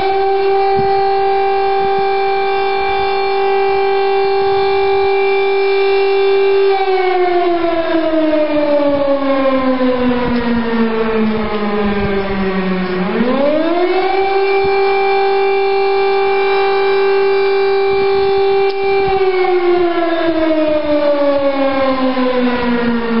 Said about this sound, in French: le signal national d'alerte qui informe la population d'un danger